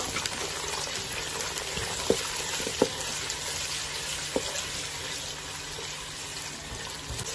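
Onions sizzle in hot ghee for a matar gosht curry, a faint, steady hiss with a few soft pops and clinks, no talking.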